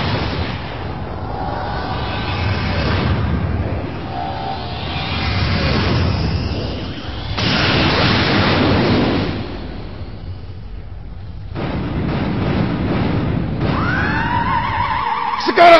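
Loud, booming blasts and roaring energy bursts rise and fall in waves, ending with a sharp rising whine, like a powerful cannon firing: the Neo Maxima cannon shot in the Ultraman Dyna series.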